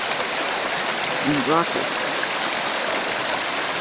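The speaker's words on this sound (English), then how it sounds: "I'm standing on top of a babbling brook in Frost Junction, Virginia" A babbling brook in Frost Junction, Virginia runs as steady broadband rushing water throughout, close and even, with a brief spoken phrase partway through.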